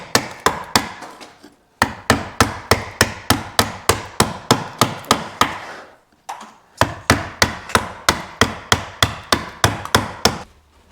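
An adze chops log house timber in steady strikes, about two dozen sharp thwacks in two runs split by a short pause, loud and close with no voices.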